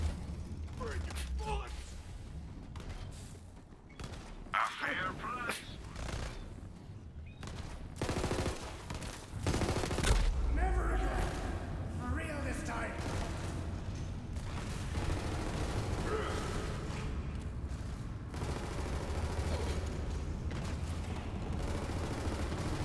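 Busy gunfire from a shotgun and other weapons in the video game Borderlands 3, a dense, fairly subdued wash of shots, mechanical clatter and effects running throughout, with a voice talking intermittently.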